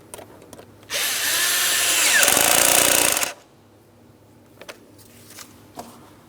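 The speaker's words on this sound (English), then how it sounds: "We'll tighten that clamp." A power tool tightens a hose clamp during a valve cover replacement on a 2003-2007 Cadillac CTS 3.6L V6. It whirs loudly and steadily for about two seconds, then cuts off, leaving faint workshop taps.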